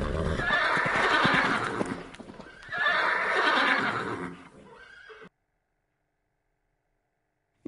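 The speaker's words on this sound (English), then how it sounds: "Nine horses." Horses neigh in two loud, close, quavering whinnies, one after the other, with faint hoof clatter, then the sound cuts to silence.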